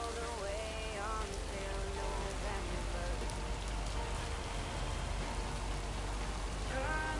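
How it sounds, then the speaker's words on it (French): Water leaking and dripping through an infiltration inside a tunnel, splashing steadily in the echoing space, layered over a constant hum and some faint background tones. "Et il pleut même dans le tunnel."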